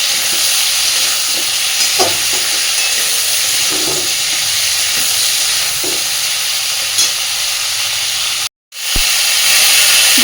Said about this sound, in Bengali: আলু আর কপিটাকে সুন্দর করে একটু ভেজে নেব।